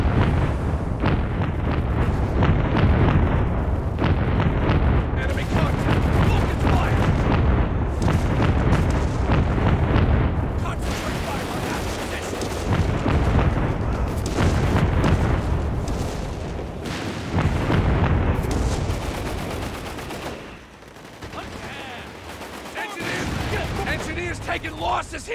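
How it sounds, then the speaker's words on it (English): Booming artillery fire from a World War II battle in Company of Heroes 3, a steady barrage of loud blasts and rumbling impacts that runs on and on, mixed with battlefield noise and voices talking throughout. "I've got artillery again"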